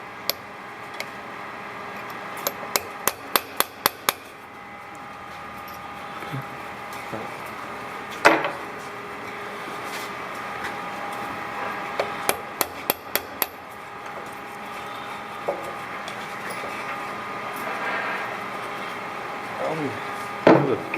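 A hammer drives a part in during hands-on metal or shop work: two quick clusters of sharp, close taps, each a rapid run of five or six strikes, with a few isolated knocks between over a steady low background hum.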